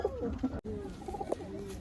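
Pigeons, including a white one, coo nearby in repeated throaty phrases, broken by a brief silent gap before the rolling calls resume, with no talk.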